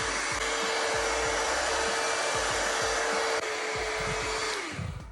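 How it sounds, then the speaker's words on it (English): A blow dryer dries a man's hair while he styles it for volume. Its loud, steady whirring roar runs without a break, then winds down near the end. "let's hit it with the blow dryer"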